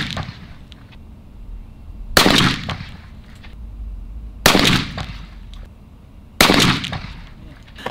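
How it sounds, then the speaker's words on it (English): Three loud, close shotgun blasts from a 12 gauge Browning A5 loaded with heavy bismuth shot, fired at a 40-yard pattern target through a UFO choke, spaced a couple of seconds apart, each with a sharp crack and a short decaying echo outdoors. "I wanna shoot the heavy B at 40 yards with the UFO choke"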